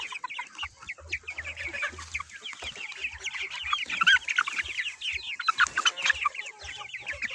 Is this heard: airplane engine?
no